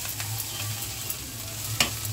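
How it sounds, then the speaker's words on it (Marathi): Taklyachi bhaji, a wild leafy vegetable, frying in hot oil, a steady close sizzle with faint stirring and one sharp clack of the spatula near the end. "तेलामध्ये चांगली फ्राय करून घ्यायची भाजी."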